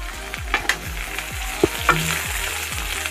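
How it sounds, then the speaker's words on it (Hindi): Vegetables with long beans frying in a pan: a short, close, crackling sizzle with a few spoon knocks and brief scrapes over a steady frying hiss. "इसे थोड़े देर के लिए ब्राउन होने देंगे, अच्छे से फ्राई होने देंगे।"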